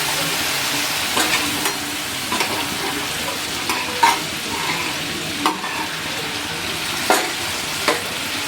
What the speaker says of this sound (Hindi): ये टमाटर का पेस्ट है वो बनाया वो डाल रहा हूँ।